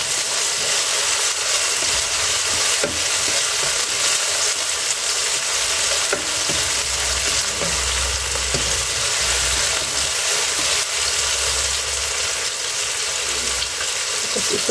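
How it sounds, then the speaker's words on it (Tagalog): Onions sautéing in a frying pan give a steady, loud sizzle that runs unbroken for the whole stretch, with a few faint clinks of stirring and no talking. "Gigisa ko na yung sibuyas."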